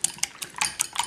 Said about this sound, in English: Into a small bowl, add the eggs, then the salt and pepper, and whisk it